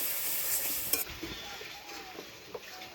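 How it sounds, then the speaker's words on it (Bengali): A masala of onion and ginger paste with turmeric and salt sizzles in a pan while being stirred, with scraping strokes and small utensil knocks over a constant fry hiss. "এবং ভালো করে ভেজে নেব মশলাটা।"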